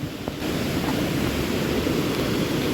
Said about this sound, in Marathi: ह्याच्या शेजारूनच वाहणारे हे छोटे छोटे असे धबधबे